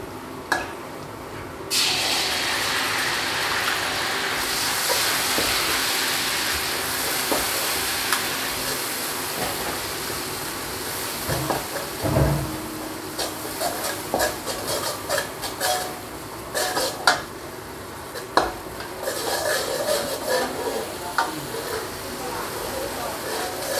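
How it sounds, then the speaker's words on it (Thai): Fermented soybean paste stir-fried with garlic for braised pork gravy noodles makes a steady sizzle with intermittent scraping of a spatula against the pan, close and continuous throughout. "พอกระเทียมหอมดีแล้วเราจะตามด้วยเต้าเจี้ยวนะครับต้องผัดเต้าเจี้ยวให้สุกก่อน"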